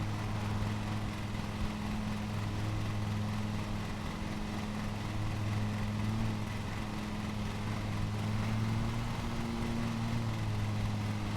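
A lawn mower engine in Lawn Mowing Simulator drones steadily with a low, even hum that holds its pitch throughout, close and continuous with no talk.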